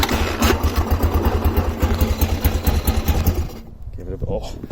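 A 1990 Honda Baja XLR250R motorcycle fires up after a kickstart and settles into a loud, close, rapid single-cylinder idle, chugging steadily for several seconds before cutting out abruptly.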